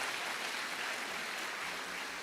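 A church congregation applauds for Jesus in a dense, even wash of clapping that holds steady throughout, moderately distant, with no voices standing out.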